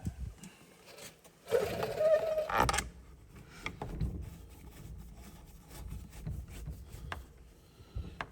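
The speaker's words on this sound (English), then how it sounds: "There is one more screw that we're going to put in." A long flat black screw being driven into a smart digital deadbolt lock, a short buzzing whir from a powered driver up close, followed by faint handling clicks and rustles.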